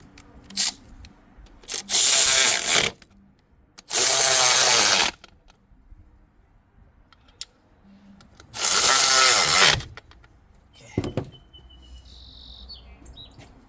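Ratchet tightening T30 Torx bolts on a 2020 Infiniti QX50 during spark plug work: three loud bursts of rapid clicking, with a few brief clicks and taps between them.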